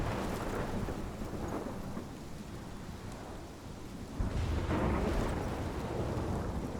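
Rain and rolling thunder in the video game Life Is Strange: a continuous wash of rainfall with deep rumbling peals, swelling louder near the end.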